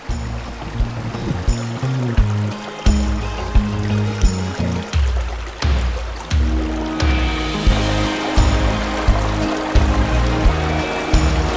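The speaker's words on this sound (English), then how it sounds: "Little creek running right here." Steady rushing and trickling of a small creek close by at a snowy campsite, continuous with no talking.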